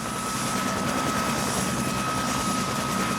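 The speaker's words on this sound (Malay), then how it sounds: "aku melihat helikopter penyelamat membawa pulang pendaki-pendaki yang cedera selang beberapa minit." A rescue helicopter flying near Everest Base Camp in the Himalayas, its rotor and engine a steady, loud, unbroken drone with a high whine, alone without voices.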